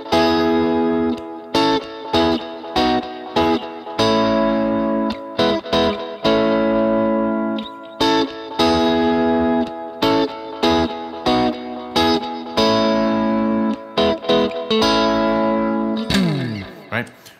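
Electric guitar plays a triad-based riff, rhythmic strummed chord stabs with effects, loud and close, ending in a slide.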